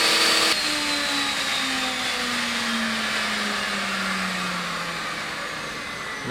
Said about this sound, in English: I'm going to turn the rotor off just for safety reasons and raise the bit up and restart it